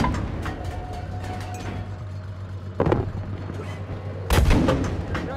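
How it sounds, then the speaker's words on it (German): Heavy, booming flak anti-aircraft gunfire in Battlefield 5, two loud bursts standing out over a constant low rumble and scattered distant shots. "Oder ballert da jemand mit einer Flak?"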